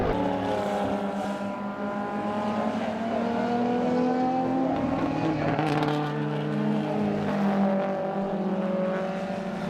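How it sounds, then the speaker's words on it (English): Racing cars, a Jaguar and a Datsun 1600 chasing a Lotus Cortina at a sporting car club race meeting, roar continuously with layered engine notes rising and falling as they pass, loud and steady throughout without talk. "Both the Jaguar and the Datsun 1600 chasing down Simon Northey in the Lotus Cortina"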